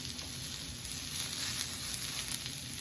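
Steak fat sizzles hard on a hot cooking rock, a close, continuous crackling hiss with small pops and no voices.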